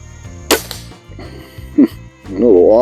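A Feinwerkbau 124D Sporter air rifle fires a single sharp, close crack, followed by a brief mechanical clatter, with someone speaking softly around it.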